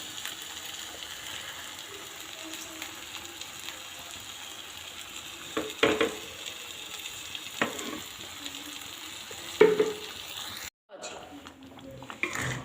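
Spatula clacks and scrapes against a pan of spinach with a soft sizzle underneath, a few louder knocks standing out, then a brief pause before stirring resumes.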